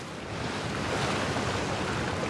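Rushing waterfall in the open-world game Genshin Impact, a steady broadband roar of falling water that holds level and close throughout, with no talk over it.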